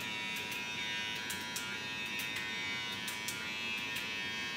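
A Gamma Plus Boosted hair clipper runs with a steady, even electric buzz close by, with a few light clicks over the hum and no talking.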